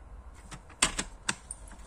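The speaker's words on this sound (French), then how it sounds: "je vais faire un pli à 1 cm du bord" An A4 scrapbook page being folded and creased, with a few sharp, dry crackling and tapping bursts close by, irregularly spaced, the loudest near the middle, over a quiet room.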